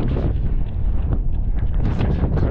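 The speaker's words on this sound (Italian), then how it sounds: "Qui intorno al lago tira un vento forte" Strong wind around Lake Trasimeno buffets the microphone in loud, rumbling gusts, with low roaring bursts rising and falling over a couple of seconds.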